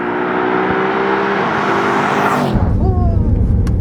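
A 2012 Mercedes-Benz AMG Black Series, a track-focused car, is driven with a loud, steady engine roar that rises in pitch as it accelerates, then shifts into a deeper rumble with a brief whine.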